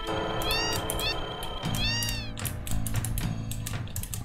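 Several cats meow in the Final Fantasy 7 video game, three or four distinct rising and falling cries in quick succession over game background sounds, clear and close.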